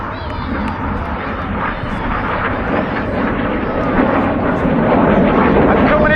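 Red Arrows display jets fly the Synchro Heart formation with smoke on. Their loud, sustained jet roar fills the air steadily and swells slightly toward the end, with no pauses.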